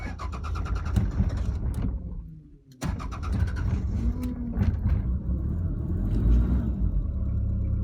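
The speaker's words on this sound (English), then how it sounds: "when you ignite the car, when you start the engine" A 1992 Toyota Hilux Surf engine cranks briefly, catches after a short pause and settles into a steady, close, low idle rumble.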